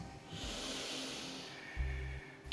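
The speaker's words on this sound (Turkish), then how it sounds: "Şimdi derin bir nefes alıyoruz." A person takes a deep breath in as a breathing exercise, a long, soft airy inhale that swells slowly and ends with a short snort-like rush of air. No speech is heard.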